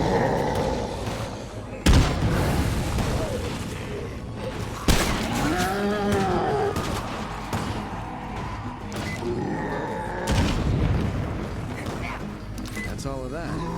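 Grenade explosion in State of Decay 2 lands as a sharp booming burst amid gunfire and a roaring fight, with further blasts and voices shouting over the loud game action.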